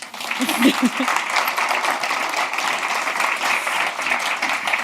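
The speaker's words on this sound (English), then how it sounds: "Round of applause." Audience at an academic panel event on diversity and productivity breaks into steady, sustained applause, a dense wash of clapping filling the room at moderate loudness throughout.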